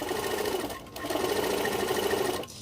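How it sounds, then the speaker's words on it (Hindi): A sewing machine stitches fabric with a steady, close mechanical whir, stopping briefly before running on again as the seam is reverse stitched and continued. "हम इसको स्टिच करेंगे, सिलाई को रिवर्स करेंगे और आगे स्टिच करेंगे।"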